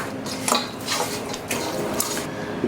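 Metal pot lid clattering onto a cooking pot of plantain porridge, several short clanks and scrapes close by, with no voices.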